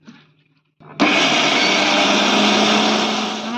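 A mixer grinder grinds soaked dal with water into a paste; after a brief quiet pause it starts abruptly into a loud, steady high-pitched whirring roar that holds nearly unchanged to the end.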